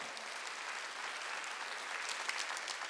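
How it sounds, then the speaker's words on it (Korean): A congregation applauds during a Sunday worship service: a soft, even hiss of many hands clapping at once, continuous throughout and slightly swelling toward the end. "박수하세요."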